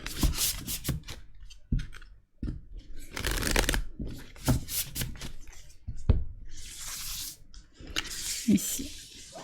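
Tarot cards being shuffled by hand for a reading, close crisp riffles and rubbing slides in irregular bursts with short pauses between, no talking.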